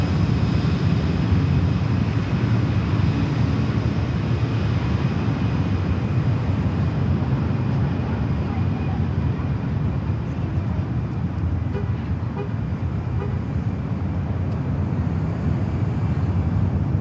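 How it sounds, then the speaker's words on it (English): Jet airliner on flight 215 from Dubai at LAX, a steady, even roar of engines at a distance, unchanging throughout, with faint radio chatter behind. "Flight 215 coming up from Dubai."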